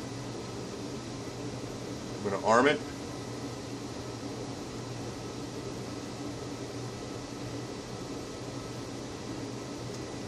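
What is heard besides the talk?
room heater running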